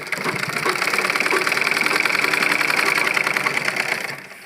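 Electric sewing machine running steadily while stitching a men's kurta at home, a dense rapid mechanical whir with fast needle ticking held nearly constant for about four seconds before stopping abruptly.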